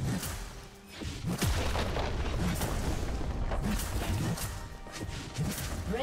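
A League of Legends turret collapses in a top-lane match, heavy booming crashes and rumbling impacts rolling out over several seconds amid continuous game noise.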